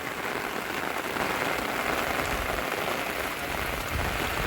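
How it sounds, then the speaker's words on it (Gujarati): Heavy rain falling at a campsite, pattering loudly and evenly on nearby surfaces as a dense, continuous hiss with no talking. "મિત્રો વરસાદ આવે તમે જોવો ખાલી સારે બધું વરસાદ પડે"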